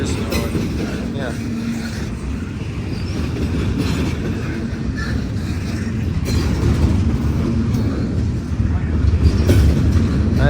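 A train passes during a day of railfanning, producing a loud, continuous rumble with rail clatter that holds steady and grows slightly toward the end.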